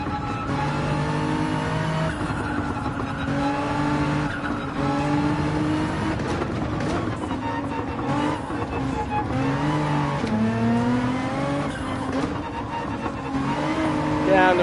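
A Nissan GT-R race car in Gran Turismo 7 lapping a circuit, engine droning steadily and rising and falling in pitch through gear changes, constant and fairly loud, with someone talking over it.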